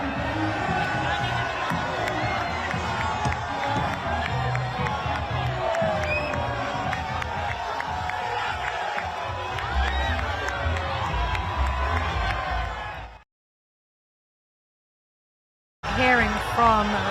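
Crowds lining London streets for an Arsenal Premier League victory parade, a loud continuous roar of cheering, whooping and shouting with some clapping, close and sustained before cutting out briefly near the end.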